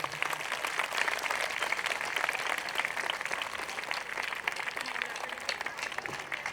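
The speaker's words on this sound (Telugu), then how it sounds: "చప్పట్లు కొట్టండి అయితే." An audience at a Parents Worship Day gathering claps steadily throughout, a dense, even patter of many hands at moderate distance, with a faint voice briefly audible beneath.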